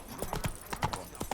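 Roach the horse's hooves clip-clop in The Witcher 3, a brisk uneven rhythm of soft thuds and knocks close by, with a brief snort or whinny mixed in and no talking.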